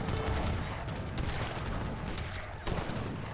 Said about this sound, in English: The light cannons are slapping the units.